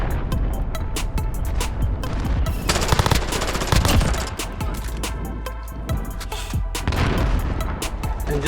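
Rapid SMG fire in Call of Duty Modern Warfare, long close bursts of automatic shots with brief pauses and heavier booming impacts mixed in, loud and sustained throughout with no talking.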